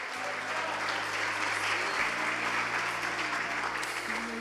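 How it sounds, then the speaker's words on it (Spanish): Sustained applause from a church congregation, steady dense clapping filling the whole stretch, with a low musical hum underneath. "¿Qué tal si le da un fuerte aplauso al Padre?"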